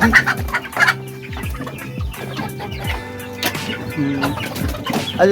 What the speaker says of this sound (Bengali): দেশি মুরগিও আছে এখানে দেশি মুরগি সুন্দর একবারে কর্করা ই ডাকা ডাক ফোটা মোরগ